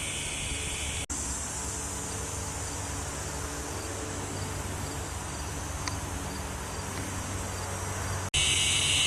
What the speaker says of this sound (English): Near the cicadas. They're loud in here too. A lot of cicadas this year.